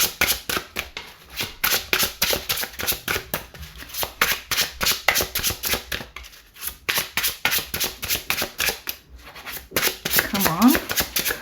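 Tarot cards are shuffled in a fast, continuous riffle of crisp flicks and slaps, close and loud, running steadily for several seconds with a brief pause near the end.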